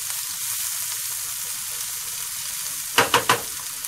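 A leek omelette mixture fries in a pan with a steady close sizzle throughout, then three quick scraping clacks of a utensil near the end as it is spread flat.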